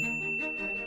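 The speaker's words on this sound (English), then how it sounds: "Pavlov rang a bell just before feeding time." A single short bell rings with a clear, sustained tinkling tone, bright and close, fading quickly.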